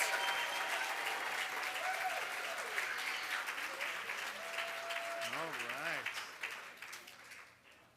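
An audience applauds Danny Olvera and Rosie Silverio at the Braille Challenge Finals awards ceremony, with sustained clapping and cheering from a large crowd, a voice talking and music running underneath, tapering off at the end.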